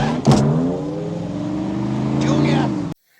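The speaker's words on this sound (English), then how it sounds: "Now, with no trouble at all, the car starts right up" A car engine in a film scene starts and revs up as it pulls away, loud and steady for nearly three seconds, then cuts off abruptly, with a voice partly over it.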